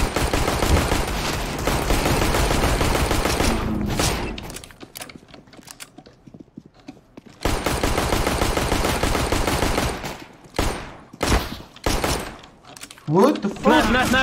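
Gunfire from guns in the video game CS:GO rattles in loud sustained bursts, breaks for a quieter stretch, resumes in heavy volleys, then gives way to short sharp shots; a voice talks in places.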